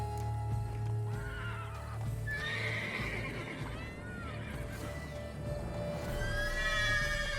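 A horse in The Witcher 3: Wild Hunt – Blood and Wine whinnies and snorts while hooves clip-clop, with a game music bed running beneath and brief voice-like sounds.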